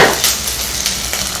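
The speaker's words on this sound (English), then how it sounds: "1 tablespoon of crushed garlic, saute it well." Crushed garlic sautés in hot coconut oil with a crackling sizzle and light clinks of a utensil against the pan, close and loud over a brief stretch without speech.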